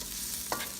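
Onions going into a hot pan for Chinese-style chopsuey give a steady, close frying sizzle with a brief burst of hiss about halfway through.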